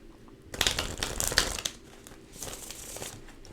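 Tarot card shuffling: a burst of crisp papery riffling and crinkling, close by, then softer shuffling rustles trailing off, no talking.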